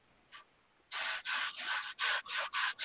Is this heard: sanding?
yes